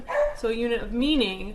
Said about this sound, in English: You'll have to excuse my little dog.